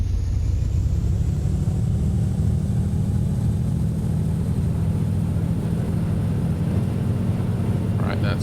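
Carenado CT210 aircraft engine held at 1700 RPM in X-Plane during a pre-takeoff run-up, a steady loud low droning rumble that stays constant throughout, with brief clicks near the end.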